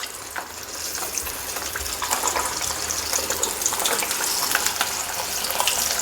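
Sweet potato vada for a fasting-day snack dropped one by one into hot oil, giving a steady, moderately loud bubbling fry with a watery rush that holds evenly throughout, no voices.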